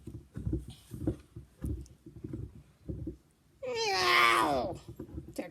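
An angry cat lets out one long, drawn-out meow that rises and wavers, loud and close, following a stretch of a voice talking.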